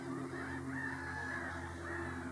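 A whooper swan gives a steady honking call, the sound held and fairly distant against a constant outdoor background hum.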